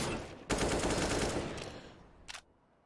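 Five-seveN pistol gunfire in Counter-Strike during a pro esports match on the map Nuke, heard as a loud burst of rapid shots followed by a fading tail and one brief later crack.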